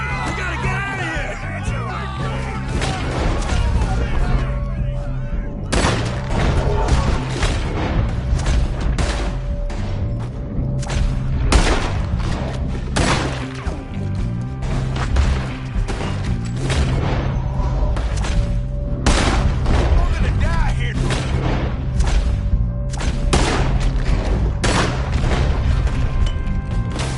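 Gunshots during a Red Dead Redemption 2 shootout, sharp booming cracks scattered over a steady rumble of game music and action, with voices shouting in the background.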